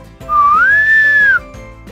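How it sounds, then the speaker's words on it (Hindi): A man gives a loud, clear rising-and-falling wolf whistle aimed at a woman at a bus stop, a single sustained note of about a second standing out over a faint background. "तू सीटी मारकर थक गया"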